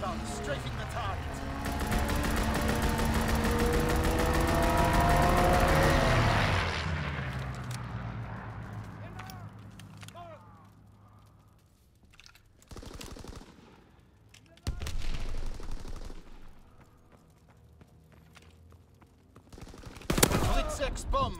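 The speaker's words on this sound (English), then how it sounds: "Fighter aircraft ready for strafing run." Sustained rapid machine-gun fire from a fighter aircraft strafing run roars loudly in the Call of Duty WW2 video game, then fades, followed by further scattered bursts and blasts, with speech heard in the game.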